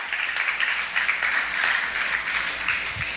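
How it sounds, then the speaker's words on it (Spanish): A church congregation gives sustained applause to the Lord during a celebration service, a fairly close, even patter of many hands clapping. "Denle un aplauso al Señor entonces."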